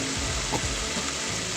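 A steady, loud sizzle of coriander and mint leaves sautéing in hot oil, with a brief stir or clink partway through.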